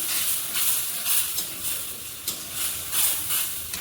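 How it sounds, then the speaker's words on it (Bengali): Mustard and green chilli spices bubble in a pan with water for a fish curry, a continuous close sizzle and hiss with gentle pulsing surges, no voices. "মশলাগুলো একটু সিদ্ধ হচ্ছে।"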